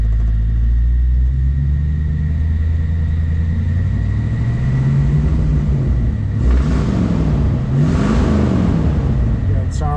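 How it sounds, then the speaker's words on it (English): A 1963 Ford Falcon Futura with dual exhaust rumbles loudly at close range, its engine revved up and down twice over a deep, steady idle. "Just rev it up a little bit for you here."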